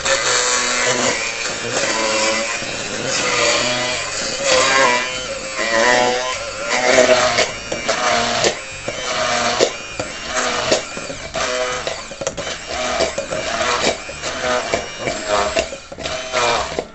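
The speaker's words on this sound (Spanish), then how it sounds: "vamos a empezar a mixear de a poquito" A hand blender purees cooked vegetables with chicken broth for a pasta sauce, its motor whirring loud and close in short pulses that rise and fall as the mixture thickens, with no talking.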